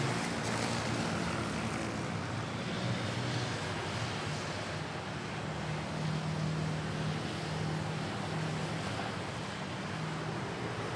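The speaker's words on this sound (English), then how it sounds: "next we have a Cebu Pacific arriving from Hong Kong" A Cebu Pacific airliner arriving from Hong Kong at Manila Airport gives a steady, distant jet roar that holds for several seconds with no talk over it.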